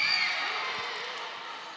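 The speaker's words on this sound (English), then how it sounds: "The crowd really get into it." A volleyball crowd at an Athletes Unlimited match cheers and roars, a steady, dense wash of many voices that begins loud and fades slightly over a couple of seconds, with a few whoops near the start.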